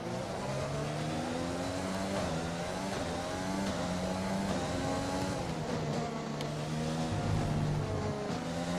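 An F1 race car engine in a racing video game screams around the Dutch Grand Prix circuit, its pitch climbing through the gears and dropping under braking, loud and continuous with no talking.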